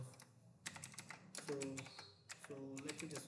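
Computer keyboard typing while writing Python SQLite trigger code, a run of quick light key clicks in short bursts, close to the mic, with a voice speaking between and over the keystrokes.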